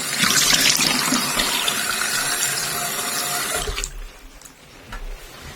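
Water runs from a tap into a bathroom sink while a face is rinsed, a loud steady splashing rush that stops abruptly after a few seconds, leaving faint drips and small handling noises.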